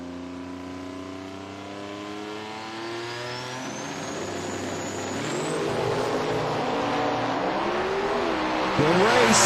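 Drag racing cars at a Lights Out eliminations event launch down an eighth-mile strip, their engines roaring loud and rising steadily in pitch as they accelerate, with a sharp burst near the end.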